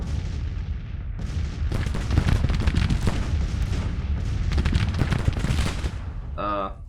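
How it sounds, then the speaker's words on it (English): Cannon and rifle fire from a Civil War battle in the Grand Tactician strategy game, a dense, continuous roll of overlapping booms and cracks with sharp volleys throughout, ending on a brief tonal chime. "Oh, they're going to actually shoot at my artillery."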